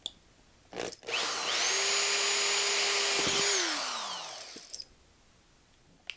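A drill bores starter holes through a 125B aluminium guitar effects pedal enclosure, one steady whining run of about three seconds, close and loud, with brief knocks before and after.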